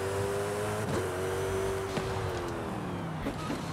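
A fast sports car in a racing video game drones steadily with a sustained engine tone, one quick shift or rev change midway, heard alone without speech.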